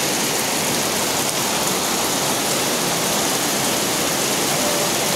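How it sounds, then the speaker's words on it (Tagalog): Steady rain pours down in a dense, unbroken hiss for the whole stretch, with no voices or other sounds standing out. "umuulan"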